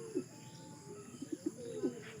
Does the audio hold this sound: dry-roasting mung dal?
no